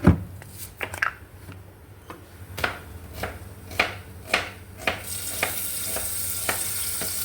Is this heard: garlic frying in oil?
yes